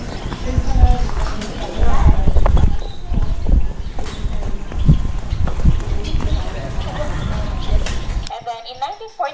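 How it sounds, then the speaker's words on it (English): Horse hooves clip-clop at a heritage resort, a steady close rhythm of hoof strikes on hard ground running under people talking, before cutting off near the end. "Hi, horse."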